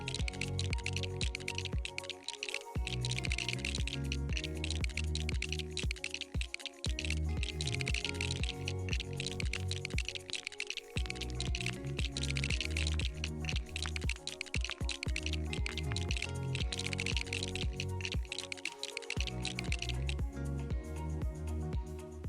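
Rapid, continuous typing on a custom mechanical keyboard with lubed Holy Panda switches and Novel Keys DSA keycaps, soft thocky clacks in quick runs with brief pauses, close and fairly quiet, no voices.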